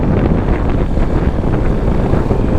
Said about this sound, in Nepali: क्या शीतल हावा आइरहेको छ र वा हेर्नु पो त बाइकमा हिँड्नुको यही हो